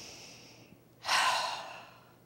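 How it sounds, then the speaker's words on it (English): A single deep cleansing breath at the end of a labor contraction, a soft broadband exhale that swells suddenly and then fades over about a second, close and alone in a quiet room. "follow it with a cleansing breath"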